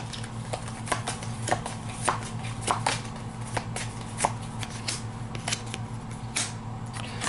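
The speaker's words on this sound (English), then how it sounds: "we got to shuffle the Ripper cards again" Cards from a Jack the Ripper themed board game being shuffled by hand, a close run of crisp riffling flicks and slaps over a steady low hum, with no talking.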